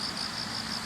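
Autumn crickets and other grass insects chirp in a steady, pulsing chorus, high trills repeating evenly over a soft outdoor hiss with no voices.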